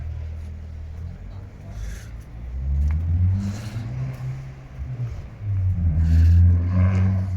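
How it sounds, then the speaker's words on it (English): A Corvette's engine rumbles low as the car drives past on a street in Mallorca, swelling louder twice as it nears, with a voice speaking briefly over it. "That Corvette."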